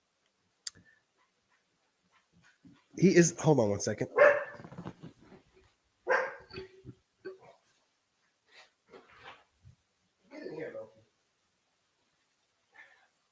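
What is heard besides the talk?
dog barking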